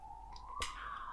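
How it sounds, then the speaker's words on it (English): Far off, an ambulance siren goes past, heard as a faint, sustained tone that rises slightly, with a brief soft click partway through and no talk. "there's an ambulance going past"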